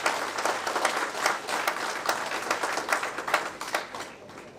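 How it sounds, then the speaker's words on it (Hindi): Audience applause welcoming a professor at a felicitation programme for newly appointed assistant professors in Bihar, a dense steady clapping crowd sustained throughout with small swells, moderately distant and with no voices over it. "सर्वप्रथम हम लालजी प्रसाद जी का स्वागत पूरे ताली के साथ हम लोग करते हैं।"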